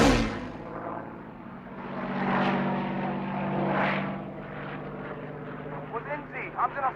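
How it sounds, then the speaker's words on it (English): A Spitfire fighter's piston engine drones as the plane passes overhead, the roar swelling twice and then fading, with a voice speaking over it near the end. "Spitfire."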